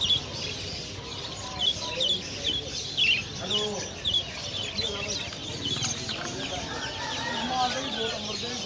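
Roosters and other fowl clucking and calling at a crowded bird market, several short squawks and clucks rising over a busy background murmur of voices and chirping birds.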